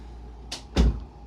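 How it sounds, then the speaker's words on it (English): A door swings shut at home with a short swish and then a dull thud as it closes, heard close by over a low room hum. Nobody speaks. "Close my door."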